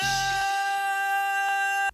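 A single sustained, time-stretched vocal sample note in Ableton's Sampler holds steadily with a smooth, synthetic sheen, then cuts off abruptly at the end.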